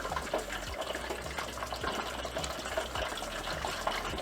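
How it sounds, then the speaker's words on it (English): A whole turkey is lowered into hot frying oil, and a steady, loud bubbling and sizzling rush goes on unbroken throughout, with no voices. "Lower it in a little bit. It's gonna start to boil up."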